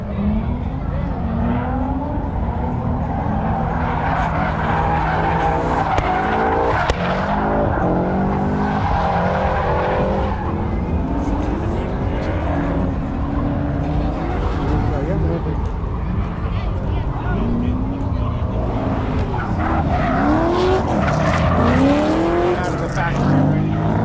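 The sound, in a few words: cars drifting with tires skidding at a car meet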